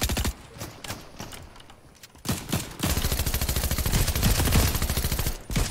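Rapid video-game gunfire in a competitive shooter match, starting with scattered single shots and then turning into a dense, sustained automatic burst that runs for several seconds at close range.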